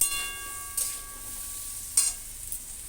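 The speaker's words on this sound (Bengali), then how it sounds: "এটা আমার তরকারিটা ভাজা হয়ে গেছে মশলার সঙ্গে।" Pointed gourd curry frying with spices in a pan, a steady soft sizzle broken by two short, louder stirring scrapes; no voices.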